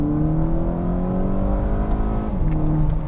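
A VW GTI with a Cobb Accessport stage 1 tune on 91 octane accelerates hard in second gear from around 3,000 RPM, a loud, close engine drone rising steadily in pitch with turbo whir over it.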